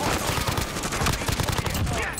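Rapid gunfire in the video game Warzone, a dense fusillade of overlapping shots in quick bursts, loud and close for the whole moment.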